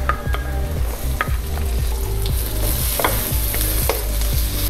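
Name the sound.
minced garlic frying with softened onions, stirred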